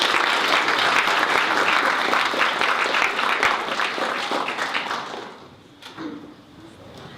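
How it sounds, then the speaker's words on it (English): Audience applause for Ken at an environmental event launch: dense clapping from a roomful of people, steady and fairly full for about five seconds, then thinning and fading into quiet room noise with a few scattered claps. "Round of applause for Ken."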